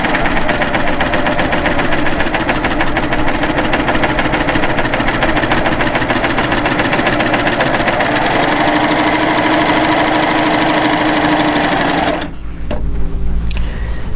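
A serger sewing machine stitches fabric with a loud, close, continuous mechanical chatter of fast needle and looper strokes, running steadily for about twelve seconds before it stops with a few clicks.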